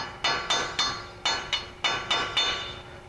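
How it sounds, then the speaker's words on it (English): A hammer strikes a chisel worked around the cap of a 1999-2011 Silverado front CV axle shaft, giving eight sharp metallic blows in an irregular rhythm, close and alone. "hit this thing with a chisel, and it should come free eventually"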